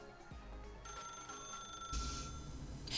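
A telephone rings in the video game The Stanley Parable, a bright electronic trill that starts partway through and sits over a low ambient hum, growing louder toward the end.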